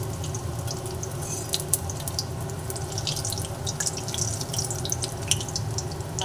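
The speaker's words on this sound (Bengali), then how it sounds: "বাদ বাকিগুলোকেও এক এক করে সুন্দর করে তেলের মধ্যে দিয়ে দিলাম। সবকটাকে ভেজে নিচ্ছি।" Soybean koftas fry in a pan of hot oil, giving a steady, close sizzle with dense crackling and occasional sharper pops, running continuously on its own with no talk.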